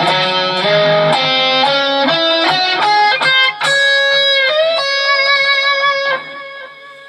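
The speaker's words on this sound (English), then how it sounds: "So instead of playing a minor seventh, I'm playing a major seventh this time. So when I play the scale," An electric guitar plays an Indian-style scale with a major seventh, one clear sustained note after another with slides and bends, rising through the run and then ringing out alone.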